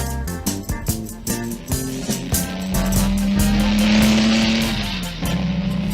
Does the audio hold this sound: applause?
no